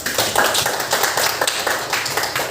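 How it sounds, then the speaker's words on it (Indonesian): A classroom of students applauds a classmate with a short burst of quick, close hand clapping. Many hands clap together in an uneven patter that stays fairly loud all the way through. "Aplaus dulu untuk teman kita"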